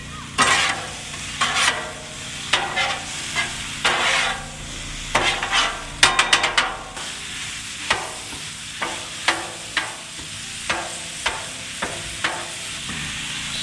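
Food frying in a pan at a campsite, a soft steady sizzle under repeated scraping stirs, about a dozen close strokes at irregular intervals with a quick rattling flurry in the middle, no speech.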